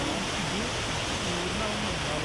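Rushing river water at a swimming spot near Nilambur, a steady broadband roar that fills the whole short stretch, close and continuous with no break.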